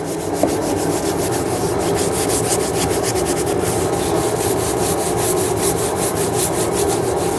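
Steady, close-up sanding of a painted, filled wooden subwoofer box, a continuous rhythmic rasping scrape with repeated strokes and no talking.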